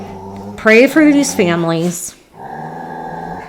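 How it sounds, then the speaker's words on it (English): Dogs indoors give a burst of whining, growling vocalizations over a few seconds, loud and close, mixed in with a person speaking. "I'm so sorry about my dogs."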